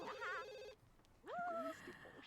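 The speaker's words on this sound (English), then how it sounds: "Isabella, come answer the phone." A telephone in a video game rings in two short warbling bursts separated by a brief pause, soft and at moderate distance, with no voices.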